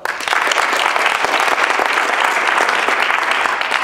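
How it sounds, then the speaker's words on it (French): A steady, loud burst of audience applause for Robin Vincent at a student debate contest, dense clapping filling the whole moment with no talk. "Je vous demande d'applaudir Robin Vincent."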